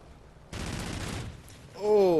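Video game gunfire in Call of Duty: Ghosts: a sudden dense burst of shots lasting under a second, followed by a short pause and then a person's voice.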